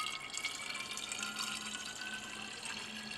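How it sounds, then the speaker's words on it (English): A reaction mixture from a Friedel-Crafts acylation is poured into a glass separating funnel, giving a steady, continuous liquid pouring and trickling sound, close and moderately quiet, with no talking. "we place the mixture into a separating funnel"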